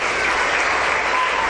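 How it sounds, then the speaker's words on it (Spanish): A church congregation bursts into sustained applause, a dense, even wash of clapping that fills the space loudly from start to finish without letting up. "Den un aplauso al Señor"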